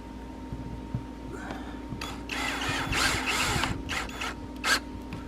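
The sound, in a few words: power drill driving screws into a shower surround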